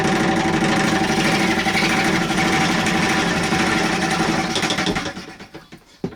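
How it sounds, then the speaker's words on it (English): Hobbies treadle fretsaw cutting wood, a rapid rhythmic mechanical chatter from the pedal-driven blade that runs steadily and then slows and fades near the end. "I just get the treadle going, a little flick of the wheel."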